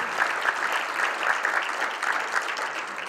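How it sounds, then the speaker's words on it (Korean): Warm, continuous applause from a stadium audience at a Korean baseball championship ceremony at Jamsil, moderately distant, with many hands clapping steadily for several seconds. "박수 부탁드리겠습니다."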